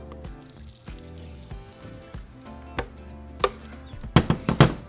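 Chile colorado sauce is poured through a strainer into a hot deep frying pan, giving soft wet splattering and sizzling that grows into louder bursts toward the end, with scraping and tapping in between.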